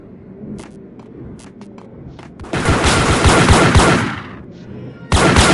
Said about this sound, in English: Gun him down!